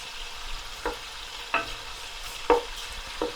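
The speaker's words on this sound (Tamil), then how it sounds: "சிக்கன் நல்லா பொரியுது" Pieces of chicken fry in hot oil for noodles, with a soft continuous sizzle broken by four sharp scraping stirs spaced about a second apart, and no voices.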